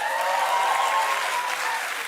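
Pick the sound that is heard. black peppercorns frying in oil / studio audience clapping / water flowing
studio audience clapping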